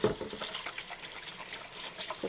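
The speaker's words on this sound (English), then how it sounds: "I'm just going to rinse out this with just a couple drops of water" Water runs from a kitchen tap as something is rinsed out, a soft uneven splashing and trickling that is fairly quiet and steady, with no voices.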